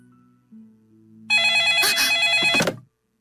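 A household telephone rings in a living room, a bright electronic ring lasting about a second and a half, loud and close, after a brief hum and tone.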